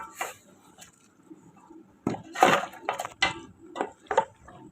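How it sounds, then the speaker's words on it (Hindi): A spoon clatters and scrapes through goat trotters paya in a cooking pot as ground cardamom and cloves are mixed in, a few irregular close knocks and scrapes with quiet gaps between them. "अब हम इसे ज़रा मिक्स करेंगे।"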